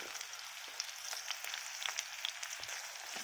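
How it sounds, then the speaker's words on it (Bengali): Onions fry in hot oil with black cumin and whole cumin seeds, giving a soft continuous sizzle with scattered small pops and crackles, quiet and close, with no voices. "পেঁয়াজ আমার ভাজা ভাজা হচ্ছে"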